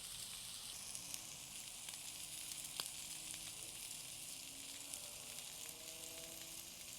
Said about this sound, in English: now we got steak 2 down and it is searing along